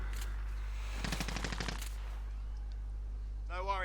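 Rapid automatic gunfire bursts from a Call of Duty Warzone match, a dense volley of about a second over steady low hum, followed by a brief spoken voice.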